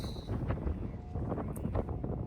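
Outdoor wind buffets the microphone in a steady low rumble with gusty swells, continuous and close throughout.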